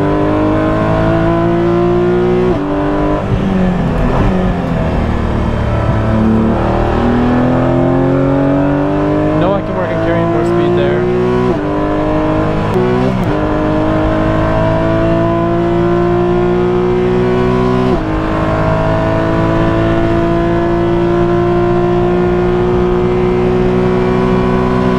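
Porsche 992 GT3 Cup race car driven on track, its engine loud and close throughout, climbing repeatedly through the revs with sharp upshifts and downshift blips, while a driver talks over it.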